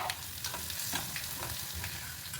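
Crushed garlic and spices fry in a pan with a soft, continuous sizzle, broken by brief scraping stirs at irregular intervals, close but fairly quiet, with no talking.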